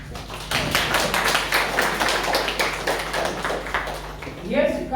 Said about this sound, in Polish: Poproszę o wielkie brawa.